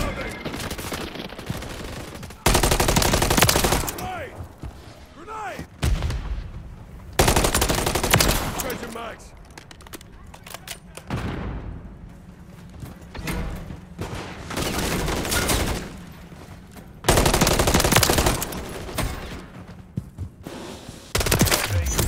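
Sustained bursts of automatic gunfire from the Call of Duty video game, loud and repeated in heavy volleys with brief lulls between them, with faint voices underneath.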